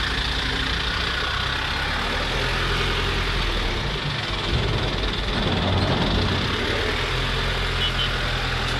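A 2017-model motorcycle offered for sale idles continuously for several seconds, a steady, close, throbbing engine note with no revving and no talk.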